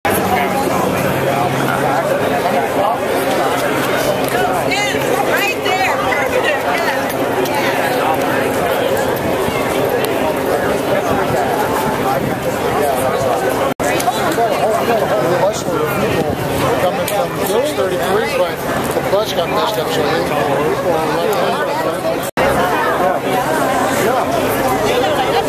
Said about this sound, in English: This crowd has actually grown in the past 10 minutes.